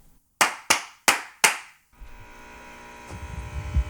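Four sharp hand claps ring out in a podcast studio, evenly spaced and close, each with a quick decay. Quiet room tone and a few soft low thumps follow.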